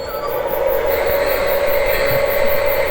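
A Lionel Polar Express model train running on a loop-level layout, giving a steady close whirring drone of motor and wheels on track with a faint regular clicking.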